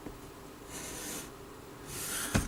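Pencil drawn along a part of a 1/84 scale Deagostini HMS Victory model ship: two short, soft scratchy strokes close up against a quiet room.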